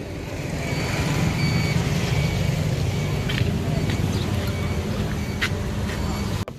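An Indian-style tuk-tuk pulls up on a street in Myanmar, its engine a steady, close rumble with a dense low drone that holds evenly throughout before cutting off sharply at the end.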